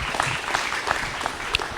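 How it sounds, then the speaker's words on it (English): Short burst of crowd clapping for an honored patrol officer at a police recognition event, moderately loud and brief. "If we could give him a round of applause and congratulations for the honoree today."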